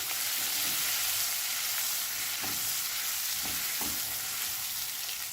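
Onions sauté in a pan for haleem with tomato going in, making a loud, continuous hissing sizzle up close and a few soft stirring thumps partway through, without any voices.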